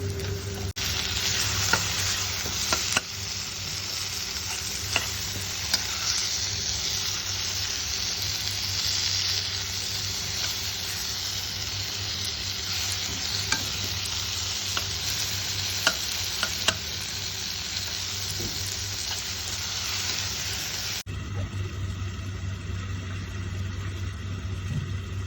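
Karela (bitter gourd) fries in oil in a pan for an Indian sabzi, a steady close sizzle with occasional stirring clicks throughout and no talking.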